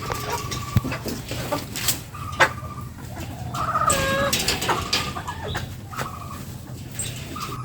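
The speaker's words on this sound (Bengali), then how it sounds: "মুরগিগুলো অবশ্য ডিম পাড়া শুরু করছে আবারও" Hens cluck on a pigeon and poultry farm during the rainy season, several birds clucking and squawking repeatedly at close range over steady background noise, with a louder burst of clucking midway.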